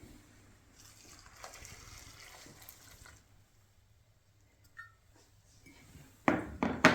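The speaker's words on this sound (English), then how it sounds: "this recipe just requires rolled oats, which you pour into the bowl, and then to that you add milk" Milk is poured into a bowl of rolled oats, a soft trickling splash that is faint at first, then turns louder and more splattery near the end, with light clinks from a bowl and utensils.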